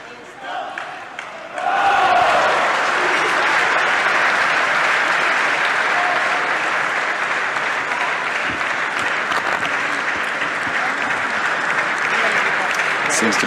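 A crowd of six to seven thousand fills a table tennis hall at the 2012 World Team Table Tennis Championships, a brief lull giving way to loud, sustained applause and crowd roar that continues unbroken throughout.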